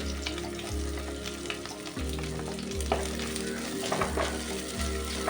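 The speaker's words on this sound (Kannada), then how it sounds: "ಕಟ್ ಮಾಡಿದ ಒಂದು ಈರುಳ್ಳಿ, ಈರುಳ್ಳಿ ಚೆನ್ನಾಗಿ ಫ್ರೈ ಆಗೋದು ಬೇಡ" Chopped onion fries in a pan with a steady close sizzle, broken by repeated scraping stirs at a regular pace, and no voices.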